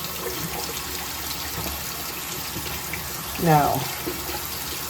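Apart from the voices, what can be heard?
water washing etching cream acid off a cup in the sink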